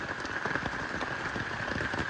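Light drizzle falls on a mountain hiking trail, a steady, even patter of fine raindrops with a continuous hiss and no pauses or voices.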